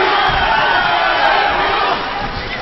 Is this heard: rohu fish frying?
no